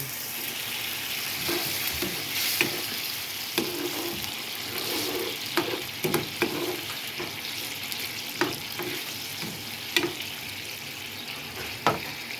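Sardines sautéing in a pan with a little added water, a steady low frying sizzle with scattered stirring clicks and utensil scrapes throughout.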